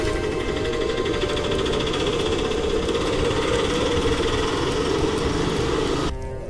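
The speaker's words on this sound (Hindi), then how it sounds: "सुबह सुबह एक ऑटो वाला हरिदास की दुकान पर आकर रुकता है।" An auto-rickshaw engine idles steadily at close range as it pulls up at a small roadside tea stall on a cold morning after rain, a constant buzzing rattle that cuts off abruptly near the end.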